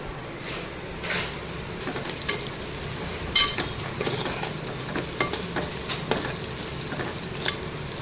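Ginger garlic paste sizzles and fries steadily in a clay pot, a continuous close crackle with a few brief stirring scrapes and clinks over eight seconds.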